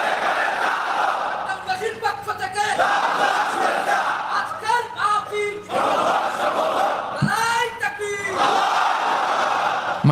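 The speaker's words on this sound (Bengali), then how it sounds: "তাকবীর পড়ুন, আল্লাহু আকবার।" A crowd chants the takbir, "Allahu Akbar," in loud, repeated unison during a religious talk, the massed voices swelling in several waves across the stretch and filling the space.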